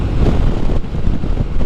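Strong wind buffets the microphone during a bike ride on the Yorke Peninsula near Port Wakefield, a loud, gusty rumble that fluctuates unevenly throughout.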